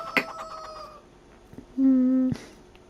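Chickens cluck and squawk in the farming video game Farm Sim 25, with a few short calls early and a sustained louder cackle near the end, fairly close and clear.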